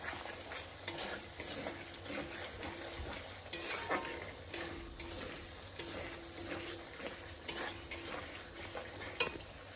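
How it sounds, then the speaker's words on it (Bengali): Turmeric, cumin and chili powder with salt are stirred together in a hot cooking pan: repeated scraping strokes of a spoon over a soft, steady sizzle, close and moderately quiet. "সব কটা একসাথে এবার মিশিয়ে দিচ্ছি।"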